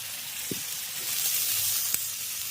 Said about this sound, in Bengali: মশলাটাকে খুব ভালো করে কষিয়ে নিয়েছি, এবার এর মধ্যে দিয়ে দেব জল।